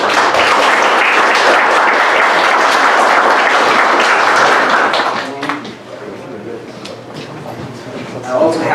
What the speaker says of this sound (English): Please give him some applause.